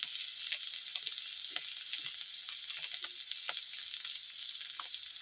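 Potato masala for Bengali-style alu kabli stirred in a pan with turmeric, a steady soft sizzle broken by scattered light scraping strokes, close and even throughout with no talking.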